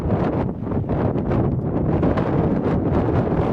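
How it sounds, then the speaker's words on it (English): Strong outdoor wind buffeting the microphone beside a right-hand-drive Land Cruiser on a road trip, a loud, continuous rumbling roar with gusty fluctuations and no talk. "wind's going crazy"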